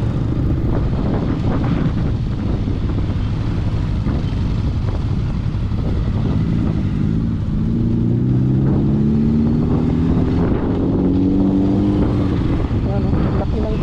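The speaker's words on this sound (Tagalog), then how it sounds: "Traffic na ito." Busy town street traffic with cars and motorcycles passing nearby, a continuous engine rumble with rising revs and wind buffeting the microphone.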